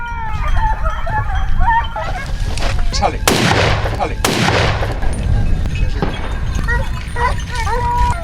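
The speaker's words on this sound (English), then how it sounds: "The first shot rang out" Sharp gunshots crack twice in quick succession during a wild boar hunt, loud and close, while honking and squawking animal cries and shouting voices fill the spaces around them.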